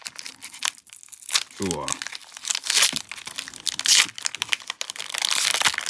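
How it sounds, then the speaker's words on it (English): Plastic wrapping is peeled and crinkled off a Doctor Who Magic: The Gathering collector booster pack, close crackling and tearing bursts under a brief spoken exclamation. "I'm going to just gently peel this off."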